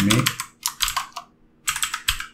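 Rapid bursts of keystrokes on a computer keyboard while code is typed for a Laravel PHP project, clustered in quick runs with short pauses between, close and clear with no talking.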